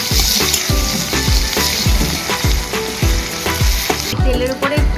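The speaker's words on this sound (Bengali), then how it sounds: "পেঁয়াজ আর লঙ্কা কুচিগুলো লাল লাল করে ভেজে দেবো।" Chopped onion and green chili sizzle hard in hot oil, a loud, steady crackling fry broken by regular scraping knocks of a spatula stirring the pan, with no voices.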